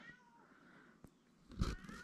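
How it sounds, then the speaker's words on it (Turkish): A house cat meows at a bedroom door around 4:30 in the morning, a short nearby cry that rises toward the end of a quiet stretch of room noise. "Duyduğunuz gibi miyavlıyor, kapıya vuruyor kalkalım diye."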